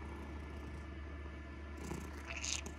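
A cat purrs softly and steadily, close by and continuous, with a brief rustle of movement near the end.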